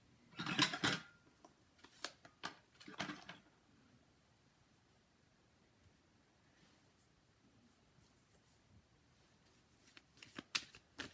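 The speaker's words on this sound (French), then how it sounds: "Alors je vais tirer d'autres cartes pour voir ce que ça nous dit." Tarot cards being shuffled and drawn for a reading, several dry riffling bursts near the start, then mostly quiet before a few soft card snaps at the end.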